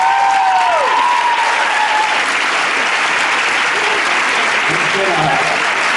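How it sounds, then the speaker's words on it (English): A panel audience at a convention gives a round of applause for Mark Pedowitz: loud, dense clapping that holds steady for several seconds, with a few voices and cheers mixed in. "can we just give a round of applause for Mark?"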